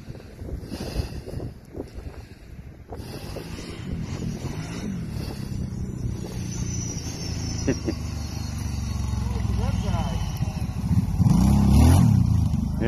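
A Kawasaki Brute Force ATV engine drones and swells as it revs through a wheelie outdoors, rising toward a louder peak near the end, with wind buffeting the microphone and voices briefly underneath.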